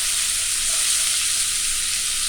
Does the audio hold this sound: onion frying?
yes